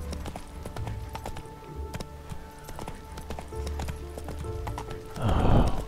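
Rapid hoofbeats clatter in a steady clip-clop rhythm in The Witcher 3: Wild Hunt, followed near the end by a loud, close horse whinny.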